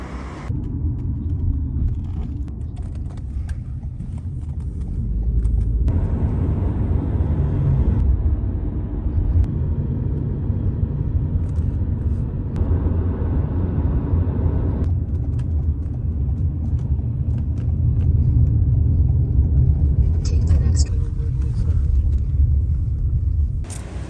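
Driving school cars pass by on a road, a loud continuous engine rumble and tyre roar that swells and fades as vehicles go past one after another, with no speech.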